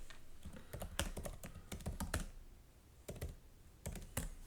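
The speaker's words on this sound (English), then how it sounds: "People probably hear my typing." Keys on a computer keyboard clatter in quick irregular bursts, with short pauses between flurries of typing, close and moderately loud, with no one talking.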